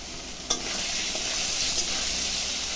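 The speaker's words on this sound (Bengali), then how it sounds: "তেল গরম হয়ে গেছে, পনিরগুলো ভেজে নেব।" Paneer fries in hot oil in a pan, a steady close sizzle with one brief clink early on and no talk.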